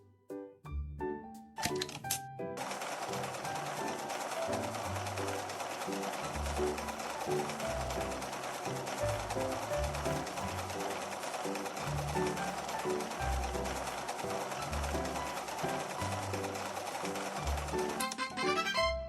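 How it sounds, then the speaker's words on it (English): Sewing machine in a dress-up video game stitching shorts: a few sharp clicks, then a steady, loud mechanical whir with pulsing low tones underneath that runs unbroken almost to the end. "Sew shorts."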